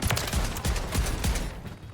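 Rapid, repeated shotgun blasts from a Reclaimer 18 firing incendiary rounds in Modern Warfare 3, loud and close, about five or six booming shots in steady rhythm before a quiet tail.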